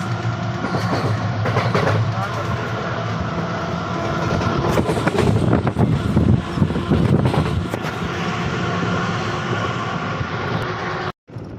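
A passenger train runs through Andhra Pradesh in the misty early morning, heard from on board as a loud, continuous rumble with rhythmic clickety-clack of wheels over the rail joints.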